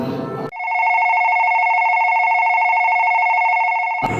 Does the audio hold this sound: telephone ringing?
yes